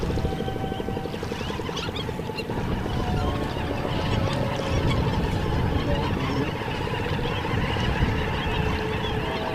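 A dense, continuous chorus of loud honking and yelping calls comes from a flock of Indian skimmers on the Bhairavapalem mudflats in Coringa Wildlife Sanctuary at rising tide. The calls are steady throughout and overlap into a noisy wall of sound.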